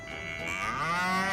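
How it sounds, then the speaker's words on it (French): A single cow lows in a Normandy meadow, one drawn-out moo rising and bending in pitch, clear and fairly close with no other sounds. "les vaches meuglent"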